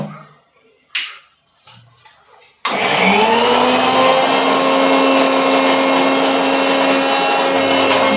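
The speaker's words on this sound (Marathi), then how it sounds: "मिक्सरला लावायचं." A mixer grinder blends a dry spice paste of roasted onion and tomato for a cashew curry cooked on a wood stove. A few handling knocks come first, then a loud, steady motor whine runs to the end.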